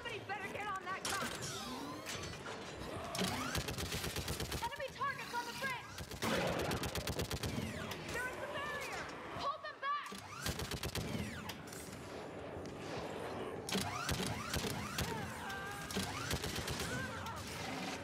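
A mounted gun fires in Mass Effect during the Priority: Thessia mission, in long rapid bursts separated by short pauses, loud and sustained against the noise of battle.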